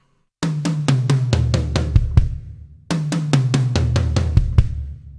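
Two passes of a fast drum tom fill, the first nine notes of a speed chop. Each pass is a quick run of loud, close tom hits that steps down in pitch and ends on a ringing final stroke, with a short pause between passes.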